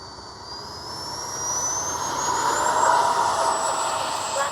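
A Freewing 80mm F-22 Raptor RC jet takes off, its ducted-fan whine rising steadily in pitch and volume over a few seconds as it speeds up, loud and fairly close.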